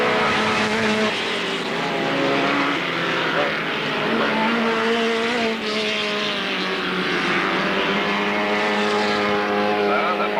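Race cars lap the Alwalton Raceway track in 1983, their engines droning loudly and continuously with shifting, overlapping tones.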